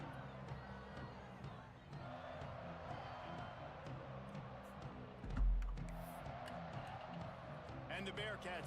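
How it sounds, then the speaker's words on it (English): Stadium crowd noise at Nippert Stadium in a college football video game, a steady roar from the stands with a brief swell of cheering midway, continuing under commentary. "The crowd's pumped, and it should be, man."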